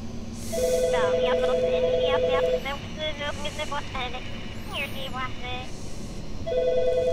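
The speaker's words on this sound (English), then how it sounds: "I'm in a phone room, which is why you hear that phone ringing" A telephone rings in an office phone room, with repeated electronic ring bursts at the start and end, fairly clear behind someone talking through most of the clip.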